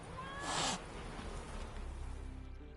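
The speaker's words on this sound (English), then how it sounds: "A cat just hissed at me." A cat hisses in the video game The Witcher 3: a single short, breathy burst of noise over a steady low background hum. No speech is heard.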